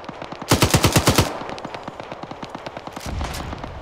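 Shooter video game gunfire: a loud rapid burst of automatic fire, then a quicker run of lighter shots, and a final heavy burst, all close and punchy with no talk.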